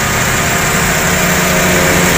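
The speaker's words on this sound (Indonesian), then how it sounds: "setelah kita nyalain mesin" A Toyota Avanza's engine idles steadily just after starting, with the air conditioning running. It makes a continuous, even mechanical hum and whir with no talking.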